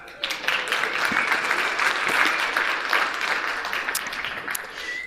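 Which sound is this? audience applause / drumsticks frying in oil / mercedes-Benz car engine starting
audience applause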